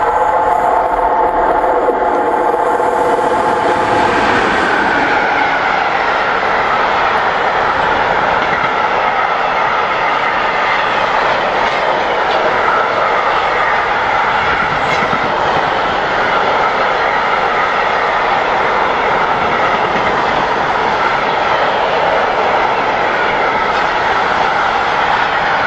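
A long freight train rumbles steadily past nearby, a continuous loud roar of wheels and cars rolling on and on without a break.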